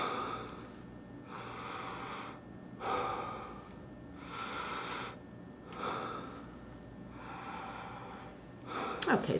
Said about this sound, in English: now I want you to take a couple deep breaths